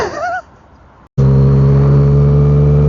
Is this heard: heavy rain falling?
no